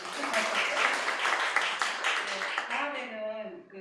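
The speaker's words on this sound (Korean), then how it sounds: "박수 한번 부탁드립니다" A seminar audience at an urban regeneration conference in Daegu claps for a presenter, a brief burst of many hands with a voice talking over it, tapering off as speech continues at the end.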